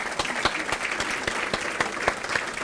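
Applause at a civic awards dinner in a country club: steady, full clapping from many diners throughout, fairly loud, with individual sharp claps standing out and no talking over it.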